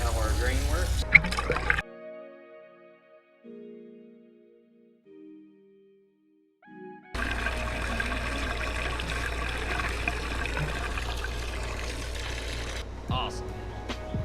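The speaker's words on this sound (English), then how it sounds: "Pull the stopper out and we'll see how our drain works." Water drains through a newly installed sink drain after the stopper is pulled, first a close, steady trickling rush, then a pause with faint gurgles, then a loud, sustained stream of flowing water.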